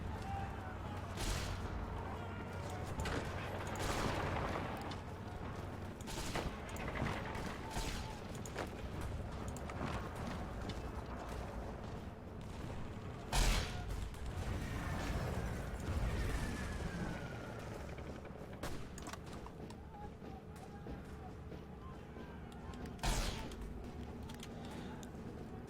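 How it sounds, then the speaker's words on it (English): Anti-tank rifles firing in Hearts of Iron IV: a dense, continuous battle din of booms and gunfire with a few sharper blasts standing out, fairly loud throughout. "That's our anti-tank rifles kicking in right there."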